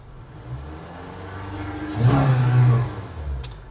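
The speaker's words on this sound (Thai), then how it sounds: "เดี๋ยวผมขออนุญาตเล่น เครื่องยนต์ให้ดูรอบเครื่องยนต์ส" A 2018 Honda CR-V 2.4 engine idles low, then revs up sharply for about a second before settling back to a steady idle.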